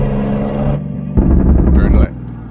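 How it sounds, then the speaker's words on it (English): Truck engine in American Truck Simulator hauling an oversized load, with a rising turbo whistle over a loud steady diesel drone that surges and then drops back near the end. "Listen to that turbo whistle."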